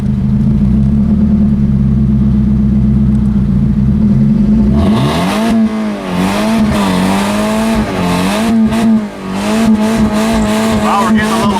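A car engine with brake fluid in the motor and a badly worn transmission, running loud and close after being put in drive; a steady drone rises into a revving, wavering whine with harsh grinding tones.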